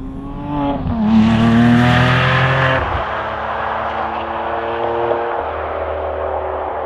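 A Lamborghini Aventador SVJ Roadster or Huracan Evo Spyder engine revs hard up to a loud peak, then drops back to a lower rumbling idle, close and alone.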